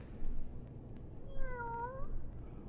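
A single drawn-out cat meow rises and falls in the middle of a quiet radio-drama scene, clear and fairly close over a low hum.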